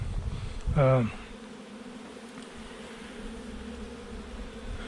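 Honeybees buzz around a hive in autumn in a steady drone that fills the air, with a brief louder burst of buzzing near the start.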